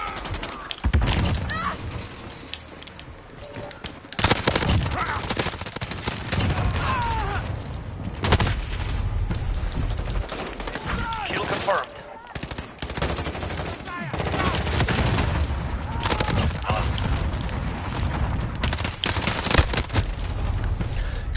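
Rapid bursts of automatic gunfire and single shots crack through a Modern Warfare match, loud and dense, nearly continuous with brief gaps, while a player talks intermittently over it.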